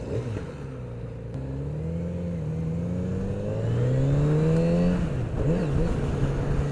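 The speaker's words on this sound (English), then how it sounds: "Engine sounds really smooth." A Kawasaki Z900 RS motorcycle engine revs smoothly, its pitch rising and dipping in long sweeps, loud and close with no talking.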